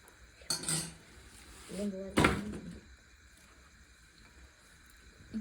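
A spoon stirring mutton curry in a metal pot: two sharp metallic clanks and scrapes against the pot, with quieter handling noise and a voice speaking between them.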